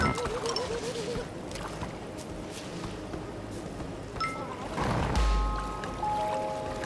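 A waterfall in the video game Bugsnax gives a steady, broad rush of falling water throughout, with light game chimes and tones rising over it near the end.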